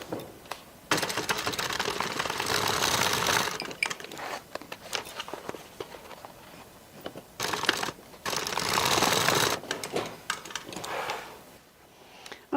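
Several bursts of machine stitching along the folded edge of a clutch bag being turned into an evening bag, each run lasting a few seconds, separated by quiet pauses and small handling clicks.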